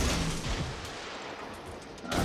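Warship guns firing in a naval battle game, heavy booming blasts with a loud report at the start and another near the end, rumbling continuously in between.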